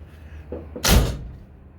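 The door of a 1952 Cadillac Coupe with new weatherstripping and felts swings shut with a single solid, muffled thump, preceded by faint latch clicks, close by with a little room noise.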